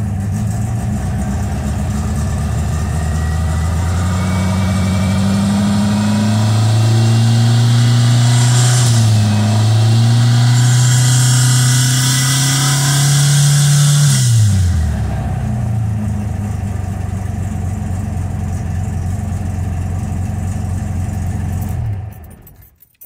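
A cold engine fitted with a 39mm carburetor and no choke revs up and down in steady swells, then settles back toward idle, close and loud with no talking.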